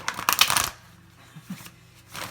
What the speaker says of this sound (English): enough shuffling